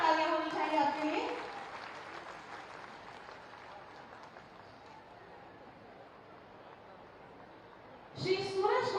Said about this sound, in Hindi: जोरदार तालियां होनी चाहिए आपके लिए